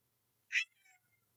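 A single short cat meow at an animal shelter, clear and fairly close, followed by a faint trailing note in otherwise quiet surroundings.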